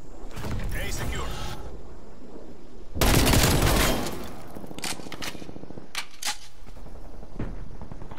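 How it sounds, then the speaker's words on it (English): Gunfire and mechanical clatter from a hostile sentry turret in Call of Duty Black Ops Cold War, with a loud burst in the middle and scattered sharper shots among game noise. "Hostile sentry turret active."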